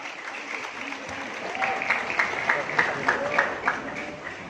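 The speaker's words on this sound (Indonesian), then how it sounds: "Tepuk tangan dulu nah." Audience applause at a Quran memorization graduation ceremony for a madrasa's students, a steady crowd of clapping hands filling the hall at moderate distance, with a voice briefly speaking over it.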